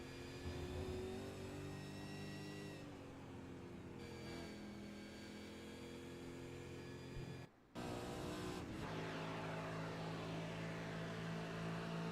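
Onboard engine of a race car lapping Watkins Glen in iRacing, loud and sustained with harmonic whine that climbs and drops through gear changes, including a brief cut around a shift before revving back up.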